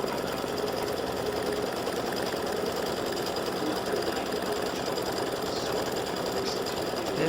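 An embroidery machine stitches a decorative fill through hooped tearaway stabilizer, a fast, steady mechanical chatter of needle strikes that runs continuously and loudly with no voices.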